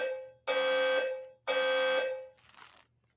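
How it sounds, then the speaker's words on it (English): A fire alarm sounds two loud, harsh buzzing tones, each about half a second long, followed by a faint fading trail, with no talk. "I don't know if that was like a fire alarm warning"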